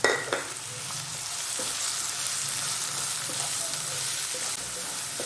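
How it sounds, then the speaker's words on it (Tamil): Chopped onions with garlic and ginger sauté in hot oil for a green gram masala, giving a steady close sizzle and frying hiss with occasional stirring scrapes and clinks, no voices. "வெங்காயத்தை நல்லா வதக்கணும்."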